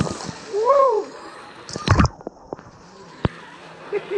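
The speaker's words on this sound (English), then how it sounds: "a concrete roof over the cold showers where you cool off after you get too warm in the hot tubs" Cold shower water at a hot springs bath splashes and spatters under a concrete roof, with a loud burst near the middle, a few sharp drips and knocks after it, and a person whooping over the start.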